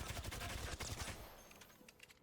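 Rapid automatic gunfire in the Apex Legends video game, a fast steady burst of close shots that stops partway through, leaving fainter game sounds behind.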